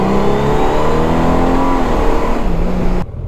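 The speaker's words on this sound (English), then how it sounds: "If I want to downshift, bam, downshift." A Honda Goldwing motorcycle engine shifts down via a finger shifter, the steady mid-pitched drone of the engine dropping in tone as a gear changes, loud and close, before cutting off abruptly near the end.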